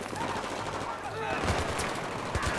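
A machine gun fires in Battlefield 3 in short, fairly quiet rhythmic bursts beneath background game noise, with voices speaking over it.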